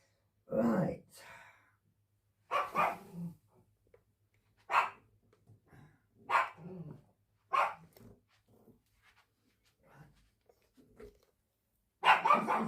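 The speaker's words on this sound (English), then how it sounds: "She likes to bark." A small dog barks in short separate bursts, roughly six sharp yaps spaced a couple of seconds apart with quiet gaps between, close by in a quiet indoor room.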